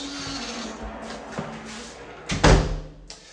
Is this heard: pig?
no